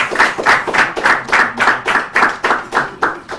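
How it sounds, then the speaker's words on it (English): A round of applause at a Bible quiz contest between church teams, steady rhythmic clapping, loud and close, without voices. "But a round of applause for them."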